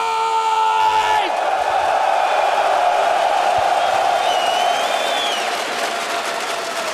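A large esports arena crowd at a semifinal cheers and yells in a loud sustained roar, with whoops rising over the din and an announcer's amplified voice fading in the first moments.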